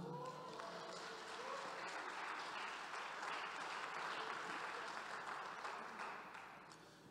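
A church congregation applauds together at an evangelical service, a dense sustained clapping that holds steady and then fades toward the end.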